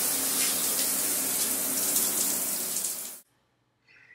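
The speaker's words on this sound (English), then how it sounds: "And now we could come and spray this whole thing off." A shower-type hose sprayer hisses out a strong continuous spray of water, loud and close, for about three seconds before cutting off abruptly, leaving near silence and a faint brief sound afterward.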